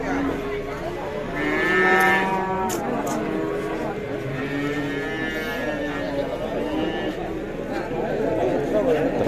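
Cattle mooing at a busy cow market in Ambarketawang, several long drawn-out lows rising over a steady murmur of crowd noise, while a voice talks throughout.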